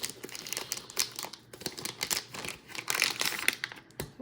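Plastic packaging of a 1993 military survival fishing kit being cut and torn open, a close run of crisp crinkling, rustling snips and tearing with brief sharp bursts throughout.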